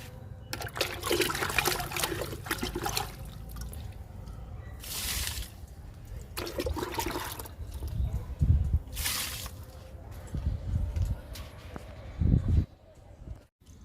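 Kitchen waste liquid fertilizer poured onto a garden plant, splashing and trickling in several separate bursts with short pauses between, close and fairly clear.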